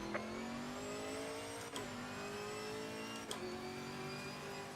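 An American muscle GT4 car engine in the racing game Assetto Corsa Competizione revs steadily with a sustained, rising drone, briefly dipping twice as gears shift, then climbing again; no voices.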